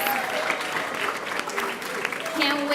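An audience at a downtown Doral conference on migration stories gives the guests a sustained round of applause, a dense, fairly loud clapping with voices and cheers mixed in.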